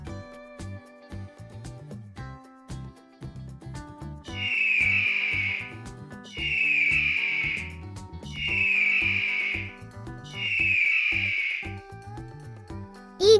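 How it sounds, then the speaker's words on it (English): An eagle call sound effect: four shrill, evenly spaced cries, each about a second long, ring out clearly over a light background music track. "Eagle,"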